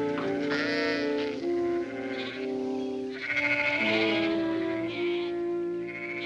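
Sheep and a white-faced lamb bleat repeatedly in a farm setting, wavering cries overlapping one another, loud and close with no talk.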